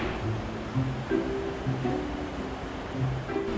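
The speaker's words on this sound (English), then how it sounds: "And there's the stream of water over here." Flowing stream by a mountain in Kyoto, Japan, rushing in a steady broadband wash with faint low tones drifting through, close and continuous without speech.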